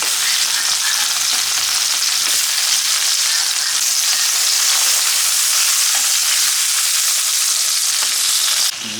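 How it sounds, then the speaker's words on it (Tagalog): Skinless longganisa sausage sizzles steadily in hot oil, a loud, continuous close-up frying hiss with faint crackles that holds unbroken for about nine seconds, with no talking. "Ito yung ating longganisang niluluto."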